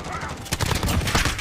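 A PKM light machine gun fires in the COD Mobile video game: rapid, close, punchy bursts of automatic fire that run almost continuously across a short moment.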